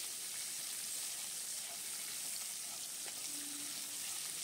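Whole garam masala, cardamom, cinnamon, cloves and peppercorns with chopped onion crackle in hot oil for a mutton curry, a dense, even hiss of frying that stays steady and fairly soft with no talk.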